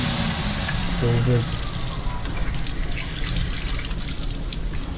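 Water runs steadily from a tap, a continuous hissing stream close by, with a short muffled thump near the start.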